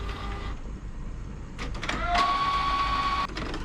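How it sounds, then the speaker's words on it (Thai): Canon inkjet printer with an E07/E08 ink absorber error running a test page, its carriage and feed motors whirring in bursts with clicks and a steady high tone midway, close and alone. "รอมันพิมพ์กัน"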